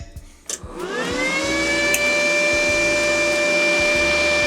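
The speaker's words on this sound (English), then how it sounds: "And you can see motors turning." Motors of a wire feed adjustment unit spinning up on a welding station, a rising whine that settles into a steady tonal hum, with low rhythmic mechanical chugging underneath, close and fairly loud.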